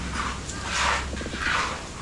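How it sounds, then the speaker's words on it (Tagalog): Strong outdoor wind gusts roar across the microphone in broad rushing surges that swell and fade twice over two seconds, loud and close, with no clear speech. "Lakas ng hangin oh."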